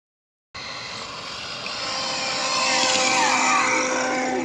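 An Arrma Big Rock 1/7 RC truck on 6S with a Castle Cobra 5 ESC screams past at speed, a loud high-pitched motor whine rising steadily as it accelerates, continuous and close.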